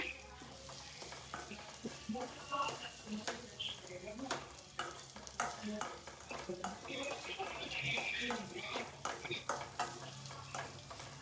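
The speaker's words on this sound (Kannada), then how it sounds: "ನೀಟಾಗಿ ಈ ತರ ನಾವು ಫ್ರೈ ಮಾಡ್ಕೋಬೇಕಾಗುತ್ತೆ" Spiced masala for a paneer gravy fries in a pan with a soft sizzle, while a spoon stirs and scrapes repeatedly against the metal; the sound is fairly faint.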